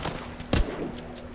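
Gunfire in the zombie shooter game The Walking Zombie 2, heard as a single loud, sharp game shot over a steady background of game ambience.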